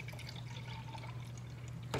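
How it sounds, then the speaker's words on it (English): Fresh milk pours into a cooking pan in a soft, continuous liquid trickle, faint and close, ending with a brief clunk. "let's add fresh milk so I can give a good boil to it"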